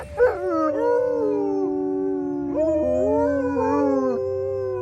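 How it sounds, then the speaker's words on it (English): A yard dog outdoors howls in long, wavering tones that slide up and down, then breaks into whining whimpers before howling again, loud and close with no talking. "He's our yard dog."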